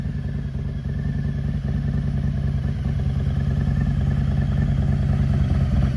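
A motorcycle running close by with a steady, loud mid-pitched engine drone that holds throughout without clear revving or fading away.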